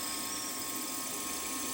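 A Warco WM16B milling machine runs steadily with a bit touching off against a metal drill, giving a constant whining motor hum with faint tonal buzz throughout, fairly loud and close, with no talking.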